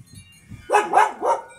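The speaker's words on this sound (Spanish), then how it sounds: "Gino, ladrando los perritos." Small dogs barking beside a backyard vegetable garden where pepper plants were transplanted, three loud close barks in quick succession after a second of quiet, with no talking.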